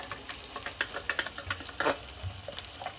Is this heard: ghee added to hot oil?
yes